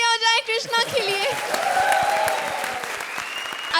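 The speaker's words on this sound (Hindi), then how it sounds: "एक बार जोरदार तालियां हो जाए कृष्णा के लिए" A studio audience on a TV comedy show breaks into loud applause for Krishna. A burst of crowd clapping and cheering rises over a brief musical sting at the start, then settles into a dense, sustained ovation.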